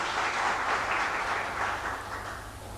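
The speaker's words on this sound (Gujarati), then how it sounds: "પટેલ સાહેબ જ્યારે અહીંયા ઉપસ્થિત છે ત્યારે તેમનું જોરદાર તાળીઓથી આપણે હાર્દિક સ્વાગત કરીએ છીએ" Sustained crowd applause welcoming a guest at a primary school event, dense and steady throughout, fading slightly toward the end.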